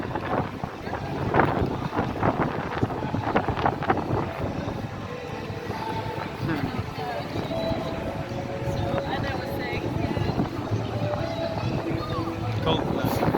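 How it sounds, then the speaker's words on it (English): Steady wind buffeting the microphone with low rumbling gusts in Leicester Square, and faint voices underneath throughout. "It's windy. The wind blowing it."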